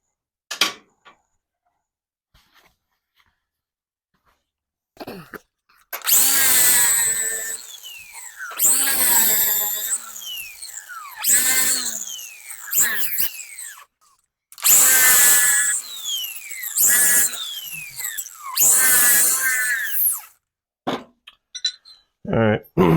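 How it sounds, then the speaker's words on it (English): Power drill boring bolt holes in a steel transmission crossmember for a tube chassis, several loud bursts of grinding whine separated by brief pauses, with quiet handling clicks at the start and end. "Drill these 2 holes."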